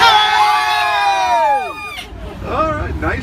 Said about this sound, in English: When we get alongside this duck, I want everybody to yell as loud as you can at it.